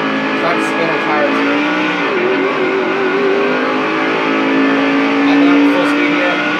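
Race car engine from the NASCAR 2005 Chase for the Cup video game, Busch Series at Rockingham, droning steadily and loudly with rising revs and a whining pitch sweep, under a voice talking throughout.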